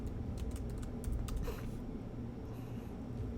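Quick, uneven key clicks from a computer keyboard over a steady low background hum, fairly quiet and close.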